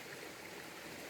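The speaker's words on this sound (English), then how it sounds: "That's the Muthyala waterfalls." The Muthyala Dharma waterfall flows as a steady, dense rush of water that stays even throughout the brief moment, with no voices over it.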